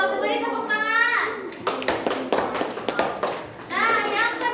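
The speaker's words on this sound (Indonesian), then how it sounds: "Tuh, beri tepuk tangan." Children clapping in a classroom, a burst of scattered hand claps of moderate loudness between stretches of a woman's speech before and after.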